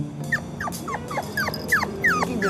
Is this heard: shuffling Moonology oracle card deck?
no